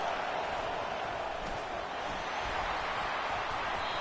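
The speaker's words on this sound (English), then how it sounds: "Listen to this crowd just shaking the girders of this place" A packed stadium crowd at an LSU football game against Miami roars in a dense, continuous wash of cheering that holds steady without distinct breaks, heard from within the stands.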